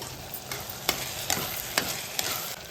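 Tomatoes cook down in a pan for tomato rice, giving a steady, close hiss of sizzling with soft scraping stir strokes recurring every half second or so.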